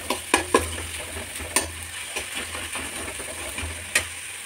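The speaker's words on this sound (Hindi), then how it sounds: "इसको भूनेंगे, टमाटर के गलने तक इसको पकाएंगे।" Tomatoes salted in a pan for baingan bharta fry with a faint, steady sizzle, broken by a few sharp clinks and scrapes of a spoon stirring. The sound is fairly quiet, with no talk.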